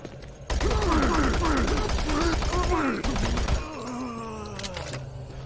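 SMG fire in the video game Doom 3, a sustained rapid burst of gunfire mixed with groaning game sounds and a voice talking over it, loud and continuous for about three seconds before fading into game noise.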